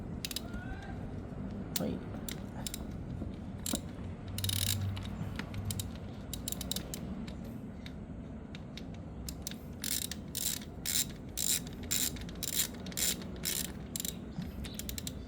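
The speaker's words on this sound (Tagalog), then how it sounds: "Ngayon gamitin na po natin siya ng wrench." A ratchet wrench clicks in quick repeated strokes while tightening the oil drain bolt on a Yamaha Sniper 155R motorcycle, near and distinct, with a single brief spoken word and a steady background hum.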